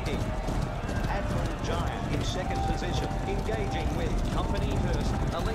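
Horses gallop in a video game race with a steady, dense stream of hoofbeats and occasional whinnies, heard under continuous excited talk from a player.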